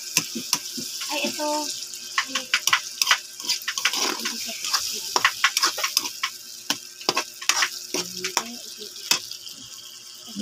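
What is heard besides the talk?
sautéing sardines in a pan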